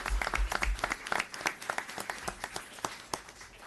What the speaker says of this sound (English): So why don't we give them a round of applause for volunteering their time